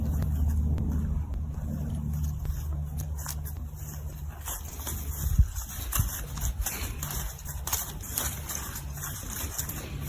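A horse walks unharnessed, its hooves clip-clopping in an irregular series of knocks that are moderately near, with low rumbling wind or engine noise underneath.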